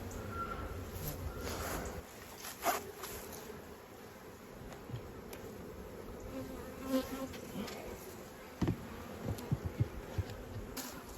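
Honey bees buzz steadily around their hives in a dense, continuous drone, close and loud throughout, with a few brief louder passes and knocks near the end.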